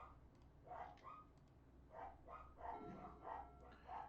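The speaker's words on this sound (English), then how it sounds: "Serenaded with this noise of barking dogs." Several dogs bark in faint, distant bursts of a few yaps each, repeating irregularly over a steady low background hum.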